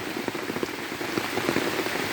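Rain falls on a flooded garden, a steady dense patter of drops striking water and wet surfaces, close and continuous throughout with no voices.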